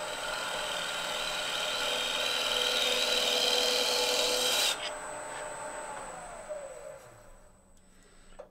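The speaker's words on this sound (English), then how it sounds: "shear scrape all the way up the side of the box" Fluteless gouge shear scraping inside a wooden box on a lathe: a steady, bright raspy scrape for several seconds that stops abruptly, leaving the lathe spinning down with a fading whine.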